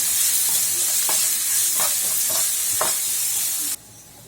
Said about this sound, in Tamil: ஒரு பெரிய வெங்காயம் பொடிசாக கட் பண்ணது இன்னும் லேசாக வதக்கி விட்டால் போதும்